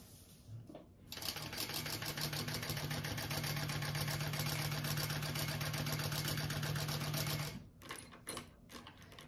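A sewing machine stitches a bag closed, running in one steady, fast, rattling whir for several seconds before stopping, close and alone with a few quiet handling clicks around it.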